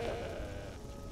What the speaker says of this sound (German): Eine Ziege!